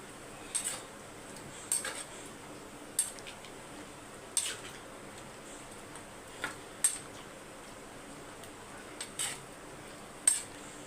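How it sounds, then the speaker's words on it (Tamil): Greens being mixed with salt in a pan, a spoon scraping and tapping the metal in irregular faint clinks spread across the stretch, with a quiet background. "இப்போ நல்லா மிக்ஸ் பண்ணி விட்டுருங்க"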